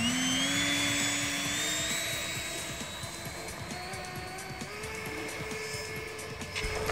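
An electric ducted fan in an AeroScout RC biplane spins down after a throttle cut, its high whine gliding lower and settling into a steady hum with rattling underneath.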